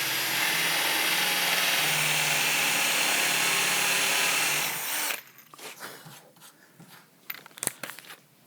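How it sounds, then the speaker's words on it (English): A hand-held drill bores a hole with a Forstner bit under firm downward pressure, a steady loud whir for about five seconds before it cuts off, followed by faint handling clatter. "Keep the drill bit straight and a firm pressure going down."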